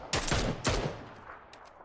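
Two sharp gunshots ring out in quick succession in a shooter video game, each loud and close with a short decaying tail, followed by faint distant pops.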